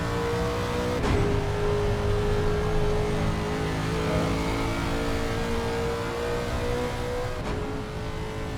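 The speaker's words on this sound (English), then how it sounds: "And these cars are a bit loud, of course, the Mustang being one of those." Engine note of a Ford Mustang race car in a racing video game at Bathurst, a loud, continuous droning roar with steady tonal harmonics and a couple of brief shifts, no voices.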